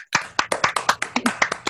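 A small group gives a short round of applause at a virtual summer music recital, about a dozen quick, fairly close claps in an even burst lasting under two seconds.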